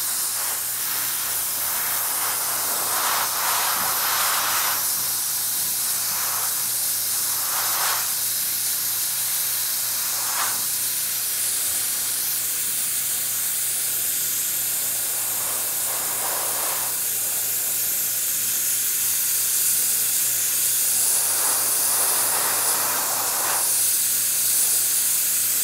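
An airbrush at around 20 PSI blows a steady, loud hiss of air across model groundwork to clear loose stones, with a constant broadband rush throughout and a few brief surges in intensity.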